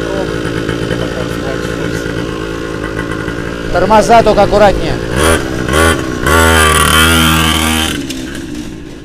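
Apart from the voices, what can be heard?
petrol kids' quad bike MAUGLI E4 49cc engine revving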